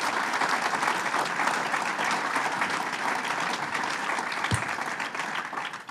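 Dense, loud audience applause at a governor's public announcement event in Buffalo, sustained evenly for several seconds with no talking over it.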